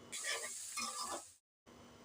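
Chopped onions hit hot oil left over from frying snakehead fish, giving a loud, steady sizzle with stirring scrapes that cuts out abruptly, then resumes after a short silence.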